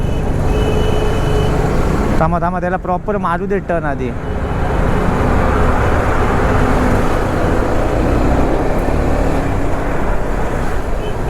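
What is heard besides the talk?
traffic of loaded trucks and containers on highway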